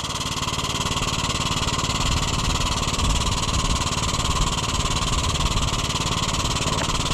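Oliver 1250-A tractor engine running steadily at a low idle-like rumble, continuous and fairly close, with a faint voice briefly underneath.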